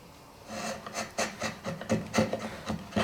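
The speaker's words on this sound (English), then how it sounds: "you can just come along with the chisel, either working down in this direction" A chisel pares wood from a tapered sliding dovetail pin in a series of short, crisp scraping strokes, close and fairly quiet, with an irregular rhythm and no talk.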